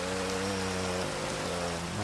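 Steady rain falls in Minecraft, a dense even hiss with a low background hum running unbroken the whole time, no voices over it.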